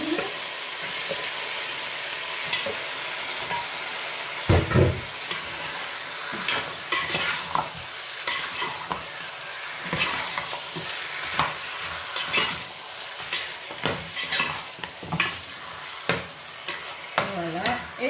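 A piece of meat fries in a pan with a steady, close sizzle, punctuated by repeated scraping and stirring knocks that grow more frequent toward the end; no one speaks.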